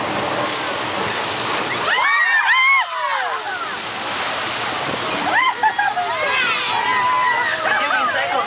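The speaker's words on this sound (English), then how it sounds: "Now you've seen our flash flood in action" Water rushes and splashes loudly and steadily, a staged flash flood on a theme park studio tour, a churning torrent close by, with people talking over it.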